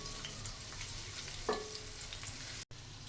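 Finely chopped onion sautéing in a pan, a soft, steady frying sizzle with a faint clink of a utensil, quiet and without any talking.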